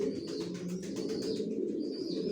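Racing pigeon chicks coo and murmur softly in a steady, continuous low stream with faint chirps, nearby and unbroken for a couple of seconds.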